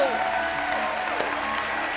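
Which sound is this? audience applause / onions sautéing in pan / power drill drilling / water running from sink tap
audience applause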